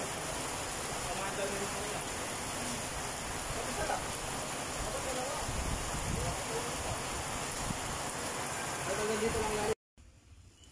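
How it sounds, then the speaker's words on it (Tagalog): Steady rain pours down outdoors, a dense, even hiss of drops on surfaces that continues at moderate loudness before cutting off near the end, with faint voices in the background. "Tumulan na nga po mga kapits."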